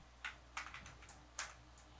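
Typing on a computer keyboard, several quick clicks in short irregular bursts, close and fairly quiet, with no talking.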